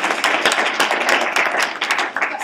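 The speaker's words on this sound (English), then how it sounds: "Give her a clap." An audience at an evening talk claps steadily in a dense, continuous patter of many hands that stays fairly loud throughout and thins slightly near the end.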